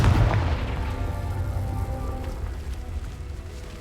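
A Confringo explosive spell cast in Hogwarts Legacy: a heavy, booming blast at the start that rolls off into a fading crackling rumble over a few seconds.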